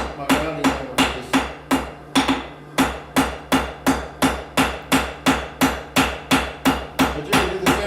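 Rhythmic rounding-hammer blows ringing on hot metal during forging, struck steadily about twice a second with a bright, clanging tone, close up and unaccompanied.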